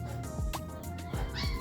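A cat hidden beneath something at a busy pet and livestock market gives a few short, faint meows, mixed into a loud, droning market background.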